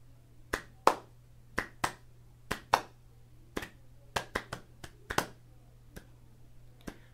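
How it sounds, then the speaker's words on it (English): Eight sharp hand claps in a loose, uneven rhythm, close and distinct, each one alone over a low steady hum, with no talking. "Clap 8 times"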